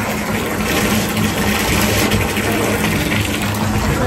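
Hot water gushes into a bathtub from the tap, a loud, steady, close rushing roar with no pauses and no talking.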